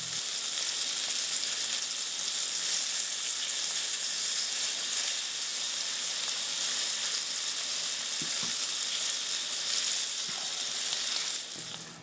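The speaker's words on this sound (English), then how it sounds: "One more turn to make sure that all sides have been fried." Smelts pan-frying in a small amount of oil give a steady, close sizzle that holds evenly throughout, with a few faint clicks near the end as the fish is turned.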